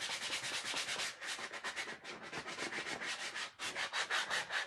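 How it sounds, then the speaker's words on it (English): A painted wooden ladybug gnome sanded by hand in quick, rhythmic rasping back-and-forth strokes, close and steady, with one brief pause partway through. "Sorry, Brad, I'm sanding."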